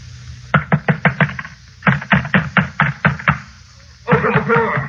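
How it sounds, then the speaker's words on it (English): A fist pounds on a locked bedroom door in rapid bursts of heavy knocks, two runs of about six to seven blows each, then a muffled shout at the end. "Keep him from pounding on this door"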